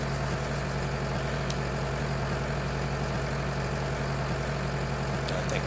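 A tractor engine idles steadily on a farm field in Vojvodina, Serbia, giving a continuous low, even rumble at moderate level with no breaks or changes in pitch.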